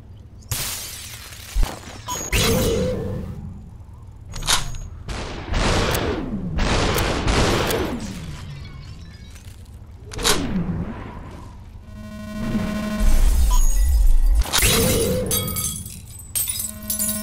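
Gunshots and shattering glass in the VR game SuperHot, loud sharp bursts and crashes scattered through the stretch, with brief quiet gaps and a rumbling hit near the end.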